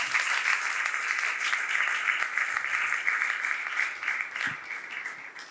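A church congregation claps together in steady, sustained applause during a Bible class, a dense continuous patter at even loudness that tapers slightly near the end, with no talk over it.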